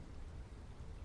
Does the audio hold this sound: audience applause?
no